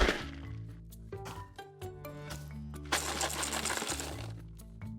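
Small loose objects rattling and clicking inside a box, giving a run of close, irregular taps and clinks with a dense burst of rattling in the middle, fairly quiet and with no voices.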